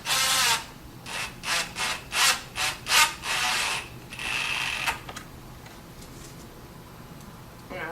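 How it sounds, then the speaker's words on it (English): Screws are driven into pre-drilled holes joining a square corner wall cabinet's face frame: a string of short, rhythmic whirring bursts from a close power driver, followed by a longer steady run, then quiet. "We're going to take our screws and drive them in"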